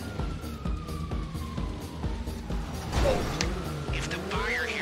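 Police sirens wail in GTA Online during the Diamond Casino Heist finale, a wavering siren over a rumbling engine and game action, fairly loud and near.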